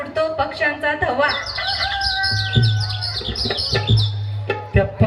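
A voice imitates a rooster's crow, a rising, stretched call standing out near and fairly loud, amid chatter and laughter at a lively women's game-show gathering with bird-like whoops and a low hum underneath.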